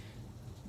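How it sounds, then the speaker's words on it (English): Rain falls outside as a steady, soft wash of noise with a low rumble that may be distant thunder underneath; a brief, faint stretch with no voices. "if you hear noise in the background, that's raining"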